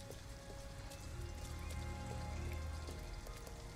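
Rain falls in the video game Detroit: Become Human as a soft, steady patter with scattered droplet ticks over a low rumble, quiet and continuous without talk.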